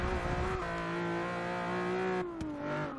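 A Hyundai Genesis track-build race car engine in Forza Motorsport 6 drones at high revs, easing off and climbing again, loud and steady with a synthetic, game-like tone.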